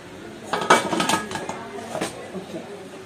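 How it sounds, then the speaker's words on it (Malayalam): A pressure cooker lid is fitted and shut in a home kitchen where pork vindaloo is cooking, giving a few close metallic clanks and clinks in quick succession before settling. "കുക്കർ ഒന്ന് അടച്ചിട്ട്"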